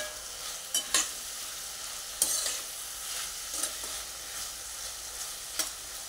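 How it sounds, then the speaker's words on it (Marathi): A large finely chopped tomato sautés in hot oil for a paneer pulao, giving a steady close sizzle broken by a few sharp stirring scrapes, with no voices. "आता हे चांगलं तेलामध्ये आपण परतून घ्यायचं आहे"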